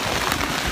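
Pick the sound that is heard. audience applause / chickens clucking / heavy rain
heavy rain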